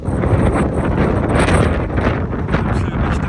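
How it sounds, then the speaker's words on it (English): Strong wind gusts buffet the microphone on the Caminito del Rey mountain walkway, a loud, continuous rushing roar with no break across the whole stretch. "it's getting quite windy now"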